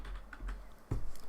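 Computer keys are tapped in a short, irregular burst of soft clicks at close range, with a heavier keystroke near the end; no voices.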